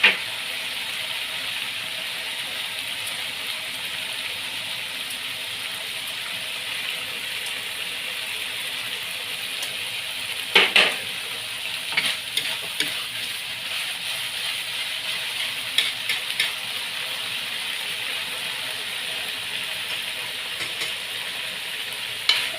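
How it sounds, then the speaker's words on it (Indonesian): Sambal terong balado, eggplant in chili sauce, sizzles steadily in a frying pan while being stirred, with a constant hiss and occasional clattering scrapes of the spatula against the pan. "Aduk lagi sedikit lagi ya, sebentar lagi biar benar-benar bawang merahnya ngeresep."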